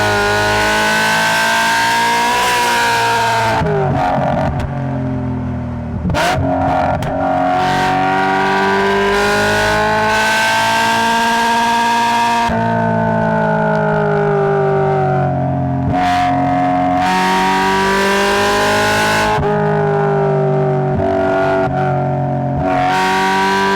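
A BMW E92 M3 fitted with an ESS 625 supercharger kit revs repeatedly, its pitch sweeping up and dropping back in several loud, close pulls with sharp gaps between them, no talking.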